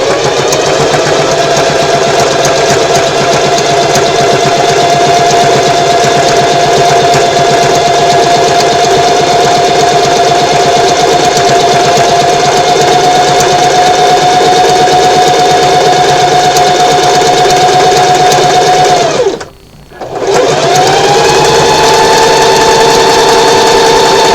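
Sewing machine running a continuous straight stitch, stitch length 2, along a narrow 1/8-inch inside seam of a fabric bow tie; steady close motor hum with a brief stop near the end before restarting.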